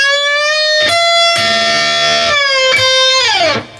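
An electric guitar plays a lick: loud, sustained, harmonically rich picked notes with a held bend, releases and a final downward slide, ringing continuously before cutting off.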